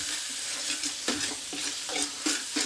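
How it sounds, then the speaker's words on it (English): Beef and doubanjiang paste stir-fried for mapo tofu, a steady close sizzle broken by a series of regular spatula scrapes and taps against the pan, with no talking. "and we stir fry it for a little bit."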